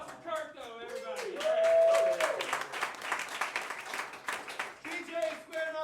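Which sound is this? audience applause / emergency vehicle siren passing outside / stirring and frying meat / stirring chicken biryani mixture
audience applause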